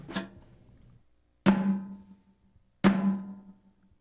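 Three separate drum strikes with the snares disengaged, each a clean hollow tone like a high tom that rings and decays, spaced evenly with silence between.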